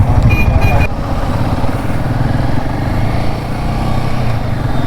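A Benelli 502 motorcycle cruises along a rain-damaged highway between Mumbai and Kolad, its steady engine drone and road rumble filling the clip with a brief high whine near the start, continuous and fairly loud throughout.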